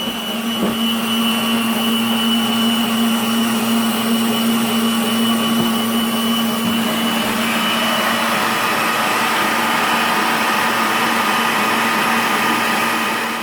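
An electric kitchen mixer whirs steadily and loudly up close while mixing for a chocolate-mandarin Yule log, its motor pitch shifting slightly partway through.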